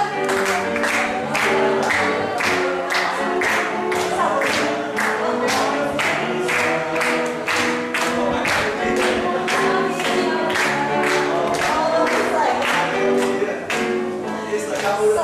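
Congregation clapping hands in steady rhythm along with a worship song during a church praise session, claps loud and regular over singing voices and music throughout.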